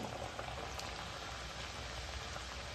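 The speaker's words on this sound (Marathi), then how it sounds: "आता अशाच प्रकारे दुसरीसुद्धा पुरी मी अशीच तळून घेते" A sweet potato ghari puri sizzles in hot oil, a continuous dense crackling and bubbling hiss that stays even and close throughout.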